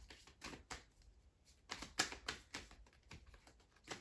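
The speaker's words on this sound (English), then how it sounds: "I can stop shuffling." Cards being shuffled close up in quiet surroundings, a run of crisp riffling bursts and soft clicks in an uneven rhythm, with no talking.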